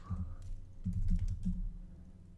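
Quiet computer keyboard typing a command while installing Node.js on a Raspberry Pi Zero W, a few soft clustered keystroke clicks close by with no speech.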